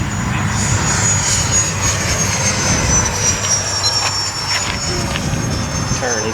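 A radio-controlled EDF jet model aircraft flies overhead at a club field, its ducted-fan whine a steady, loud roar that holds throughout with a faint rise and fall as it passes.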